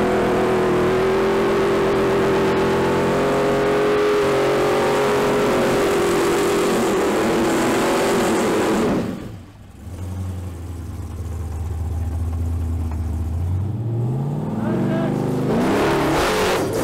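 An off-road vehicle engine revs hard while climbing steep ground, a loud continuous roar that drops briefly and then surges back with rising pitch, recorded close.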